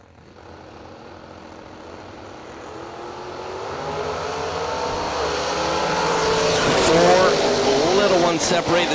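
Drag racing at an event, an S10 and a Camaro, engines building from a distant rumble to a loud, rising roar over several seconds, with an announcer talking throughout.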